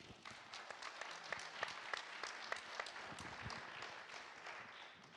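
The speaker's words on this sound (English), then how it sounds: "give Tim a big round of applause" A church congregation applauding, with a steady patter of many hands clapping, faint and somewhat distant, lasting throughout.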